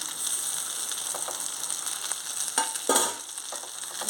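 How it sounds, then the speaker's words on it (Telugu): Boiled potato pieces are stirred into brinjal curry in a pan, giving a steady close sizzle with scraping spoon strokes against the pan and a few sharper clanks near the end. "మళ్ళీ కలిసి పెట్టి కలుపుకోవాలి"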